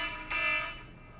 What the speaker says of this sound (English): It's my alarm for fourth period